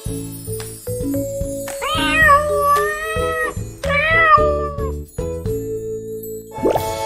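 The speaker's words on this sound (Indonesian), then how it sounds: "Suara kucing." A cat gives two long, drawn-out meows, close and clear, over a light, plinking background tune.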